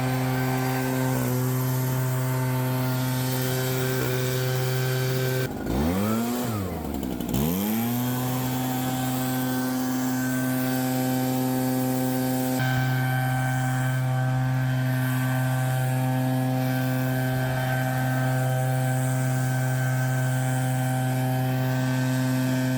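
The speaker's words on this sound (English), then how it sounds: "take my leaf blower and kind of blow around it" A gas leaf blower clears debris around an old woodshed before its roof comes off, running as a loud, steady, close drone with a brief dip and surge partway through, and no voices.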